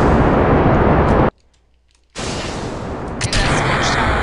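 A rocket lifts off in Kerbal Space Program as a loud, dense roar of engine noise, cut by a brief silence and then resuming at full force.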